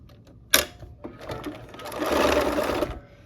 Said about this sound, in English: now we'll go to the sewing machine